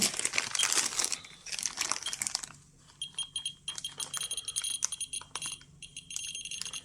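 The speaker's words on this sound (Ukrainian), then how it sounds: "Чуємо, як клацання тріщання збільшилось." A black Terra MKS-05 dosimeter with Geiger counter held near an Andrianov compass gives rapid crackling clicks, dense and loud at first, then broken into irregular bursts alongside a faint high alarm tone.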